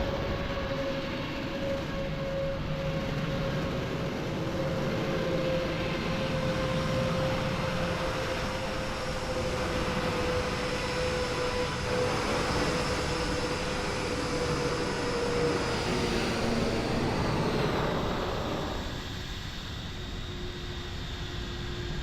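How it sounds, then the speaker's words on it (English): A Vueling airliner on approach to land at Lisbon in Microsoft Flight Simulator 2020, a loud steady jet roar with a whining engine tone that holds for about twenty seconds and then eases off slightly near the end. "we've got another aircraft coming in. It's like Vueling."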